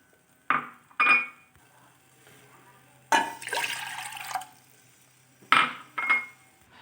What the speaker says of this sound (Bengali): এবার এতে দিয়ে দেব 2 কাপ পরিমাণ জল।